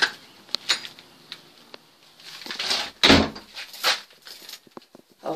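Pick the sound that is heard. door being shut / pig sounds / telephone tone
door being shut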